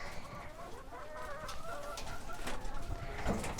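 Chickens cluck and murmur softly around a mobile chook tractor on a pasture farm, a continuous low flock chatter over outdoor background noise with a few brief sharper sounds near the end.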